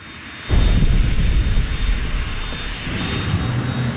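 A model jet engine roars into life after a brief quiet lead-in, then holds a loud, steady rumble with a thin high whine running across it.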